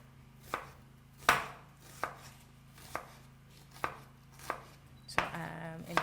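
Potatoes being chopped into pieces with a knife on a board: a slow series of about eight sharp, separate knocks, close and fairly loud, with a steady low hum beneath and no talking.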